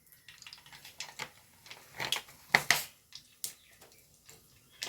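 Mustard seeds dropped into hot oil for a date and lemon pickle pop and splutter in scattered, irregular sharp crackles, fairly close and quiet, with no talking.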